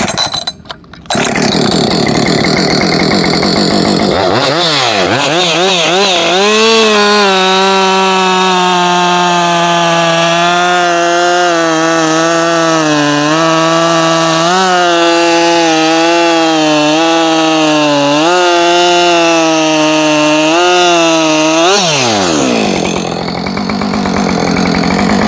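A Husqvarna 562XP Mark II chainsaw hot-starts on a pull and revs up, then bogs into a sustained loud, buzzing cut through wood with slight pitch dips before winding down to idle, very close and dominant.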